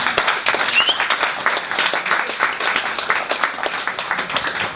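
Audience at a Boston DevOps meetup applauds steadily, a dense wash of many hands clapping close and loud throughout, with no talk over it.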